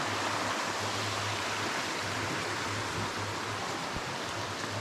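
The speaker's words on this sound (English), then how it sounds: "this is the river upstream." A small river flows below a footbridge on the Appalachian Trail near Stratton Mountain, a dense, even rush of water close by with a low steady hum beneath it, without voices.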